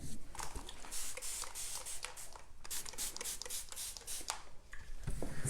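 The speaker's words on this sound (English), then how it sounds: "Spray it with water." A spray bottle mists water onto clay paint in a string of short, sharp bursts of hiss, some quick and clustered, with light rubbing and handling noise in between; no one speaks.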